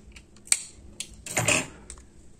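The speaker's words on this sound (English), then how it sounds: "get your pair of scissors and cut off the yarn" A pair of scissors snips through crochet yarn at the end of a row, a few sharp close clicks followed by a brief crisp cutting swish, with no talk.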